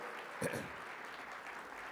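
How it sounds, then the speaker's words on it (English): Audience applause at an association annual meeting rolls on as a soft, even patter of clapping, with a brief voice rising over it near the start. "Get the applause right away."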